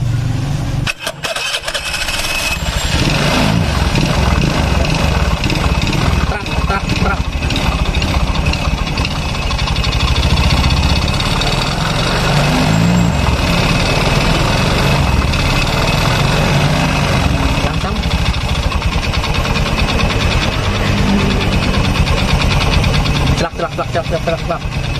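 A Honda Beat scooter engine with complex internal faults, started and revved, runs loud and close for about twenty-five seconds with a rough, rattling knock under the steady drone, briefly cutting out near the end.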